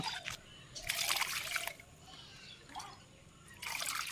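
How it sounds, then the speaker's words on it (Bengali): Water poured by hand onto the soil around a potted hibiscus plant, bursts of trickling and splashing that start and stop a few times, fairly close, with quieter gaps between pours. "এখন কিছুটা এইভাবে জল দিয়ে দেবো।"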